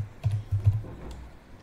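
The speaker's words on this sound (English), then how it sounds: "type this command carefully and hit enter to execute it" Brief burst of computer keyboard typing while entering a network command on a PC, a few soft, muffled keystrokes close by with no talking.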